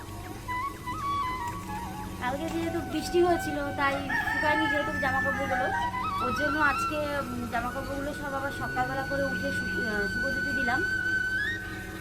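Outdoors in the morning, a rooster crows loudly in long, drawn-out calls while chickens cluck around it, the calls rising and overlapping over a steady background.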